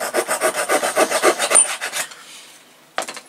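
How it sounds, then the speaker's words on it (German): A fine hand saw cuts a thin wooden strip to length for a San Felipe model ship kit. It makes a steady run of quick, close rasping strokes, then stops, and one last short scrape follows. "Dann kommt die Leiste da rein, dann sägen wir die einmal zu auf Maß."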